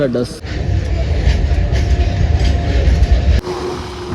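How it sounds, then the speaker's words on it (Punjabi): An Indian Railways train rumbles past nearby at a level crossing between Govardhan and Vrindavan, with a steady, heavy roll, after a short burst of speech at the start. "ਸਾਹਮਣੇ ਫਾਟਕ ਲੱਗ ਗਿਆ ਹੈਗਾ ਹੁਣੇ ਹੀ ਲੱਗਿਆ ਹਲੇ ਫਾਟਕ ਤੇ ਟ੍ਰੇਨ ਦੇਖੋ ਜੀ"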